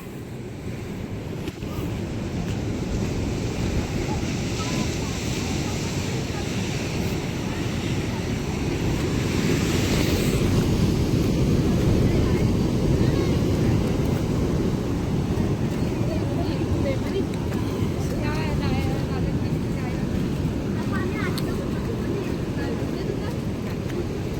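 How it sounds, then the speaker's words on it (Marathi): Continuous loud roar of ocean waves surging at high tide at Harihareshwar beach, with strong wind buffeting, steady throughout with no clear gaps between breakers. "त्या लाटा लाटांचं उधाण आलेलं आहे भरती चालू झाले"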